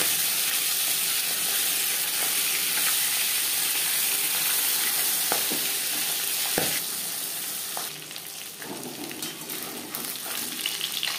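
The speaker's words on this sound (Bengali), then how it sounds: "ভাজা হয়ে গেলে অপর সাইডটা উল্টে দেবে।" Steady, close sizzle of pabda fish frying in refined oil after being turned onto the other side, dense crackle and spatter that eases slightly toward the end, with a few clanks of utensils.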